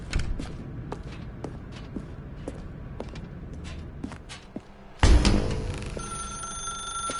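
Telephone ringing in the video game The Stanley Parable, repeated ring bursts over quiet footsteps, followed by a louder clattering surge near the end.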